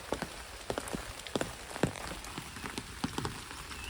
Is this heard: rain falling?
yes